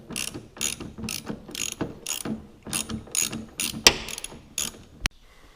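Ratchet wrench loosening the bolt that holds the airbox on a 2003 Honda Accord, a close series of rhythmic clicking strokes, then a sharp metallic clack and near silence.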